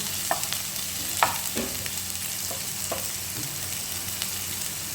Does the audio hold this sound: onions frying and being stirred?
yes